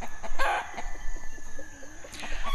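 Hens clucking and a rooster crowing on a farm property, loud and close, with repeated overlapping calls running throughout and no talk.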